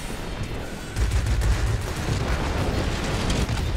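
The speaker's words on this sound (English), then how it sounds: "Okay, we'll test out these rockets." Aircraft rockets fire and explode in a combat flight game featuring a Me 410, a dense, loud rumbling barrage that surges after the first second and keeps roaring steadily to the end, with no voices.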